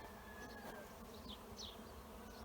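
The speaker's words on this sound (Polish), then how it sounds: "A tutaj na płocie u babci rój" Steady low buzzing of a honeybee swarm hanging on a fence, continuous and close, with a few individual bees whining past nearby.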